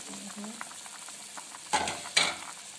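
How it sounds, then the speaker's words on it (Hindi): Meat and cumin being stirred and fried again in a pot, with two bursts of scraping and sizzling, each swelling loudly and then fading, over a quiet kitchen background. "इसको दोबारा भूनेंगे।"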